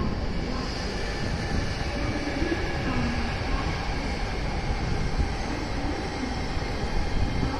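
JR train pulling out of track 6 at Amagasaki station, a steady low rumble and rolling wheel noise on the platform, moderately loud and continuous with no talk.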